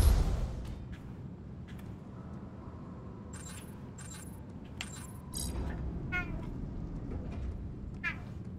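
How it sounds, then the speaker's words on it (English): A house cat meows several times near the microphone, short rising calls scattered over a low background rumble, with a quiet indoor room feel and no speech over them. "Oh, cat, what are you doing?"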